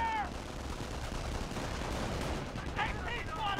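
Gunfire in the real-time strategy game Company of Heroes, a rough crackling battle din with scattered shots and brief voices, fairly faint and steady.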